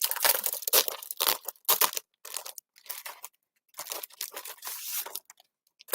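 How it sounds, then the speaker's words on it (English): A package of designer series paper being opened up close, with bursts of crinkling and tearing plastic wrap separated by short quiet pauses, with no talking. "And then I'm going to open up this designer series paper"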